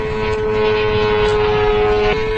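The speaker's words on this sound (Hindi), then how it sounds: "जब ड्रोन हवा में उड़ता है तो यह कुछ ऐसा साउंड करता" A Shahed-136 kamikaze drone's engine gives off a loud, steady droning hum with a sustained tone and no breaks, as if passing overhead in flight.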